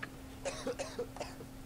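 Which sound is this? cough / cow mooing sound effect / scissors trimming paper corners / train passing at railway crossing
cough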